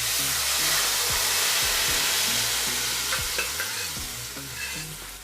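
Mashed dal goes into sautéed onion tempering for drumstick-leaf sambar, and a loud, continuous hissing sizzle fills the pan, easing slightly toward the end, with some low stirring rumble underneath.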